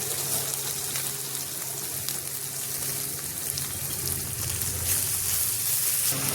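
Sliced onion frying in hot oil in a home kitchen pan, a dense steady sizzle and crackle that continues evenly throughout, fairly close, with no talking.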